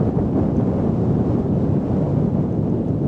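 Gusting wind roars on the Alaskan coast, a dense low rumble buffeting the microphone steadily and loudly, with no voices.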